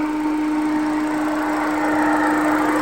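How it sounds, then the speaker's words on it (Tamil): A Ford Figo petrol engine idling with its radiator fan running, a loud steady drone with a fixed hum and a whooshing fan rush over it, continuous and close with no talking. "ரேடியேட்டரோட சவுண்டு இப்போ இன்ஜின் ரன் ஆகிட்டு இருக்கு"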